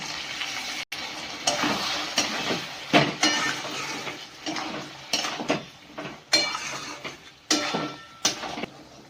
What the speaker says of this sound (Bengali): এর মধ্যে মশলা দেওয়া জলটা দিয়ে দিলাম।